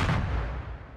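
A single booming explosion in the video game Minecraft, a loud sudden blast that decays quickly over about a second.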